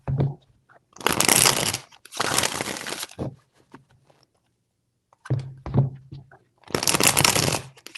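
Tarot cards are shuffled in several bursts of riffling and rustling, two long stretches early and more later, separated by short pauses. The shuffling is close and crisp, with no one speaking over it.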